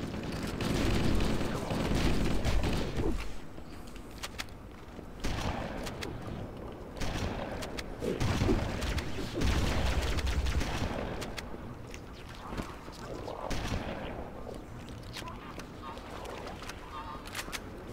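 Gunfire in the Halo shooter during a Library mission on Legendary: repeated bursts of shots and blasts with honking alien-creature noises, busy and chaotic throughout, with a faint voice in the mix.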